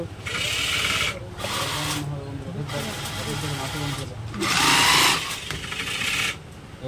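A machine stitches leather hand gloves in several short whirring bursts separated by brief pauses, while a voice talks over the sewing.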